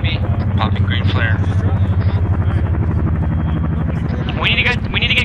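A Chinook helicopter in an Arma-style military operation game, its rotor throbbing steadily and loudly up close, with short radio-like voice bits above it.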